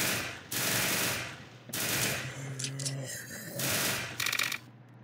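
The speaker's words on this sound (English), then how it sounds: "I have to shoot the zombie like 80 times to kill him" Rapid video game gunfire sounds in three long bursts while shooting a zombie, loud and close with short gaps between volleys, and no talking.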